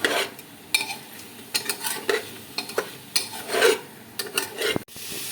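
Chicken stew with pepper is sautéed in a pan, a spoon scraping and stirring in irregular rasping strokes over a faint sizzle, close and fairly quiet.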